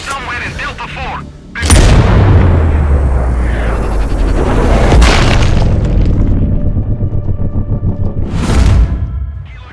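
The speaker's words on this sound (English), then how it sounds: "Tango under mortar fire" Mortar fire in the shooter game Sniper Ghost Warrior Contracts 2: a very loud, deep explosion with a long rumbling roll, a second blast midway and a third burst near the end, heavy and close.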